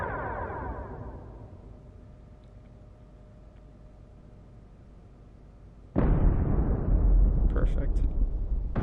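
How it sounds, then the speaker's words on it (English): Torpedoes launched and exploding during a starship battle in Star Trek: Bridge Crew: a long rumbling whoosh that fades, then a sudden loud burst of explosion with sustained roar near the end. "Torpedoes!"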